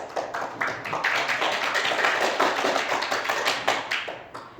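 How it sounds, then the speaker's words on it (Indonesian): A classroom audience claps during a micro teaching session, a steady, dense patter of many hands close by that runs throughout, with some louder individual claps near the end. "Ayo tepuk tangan."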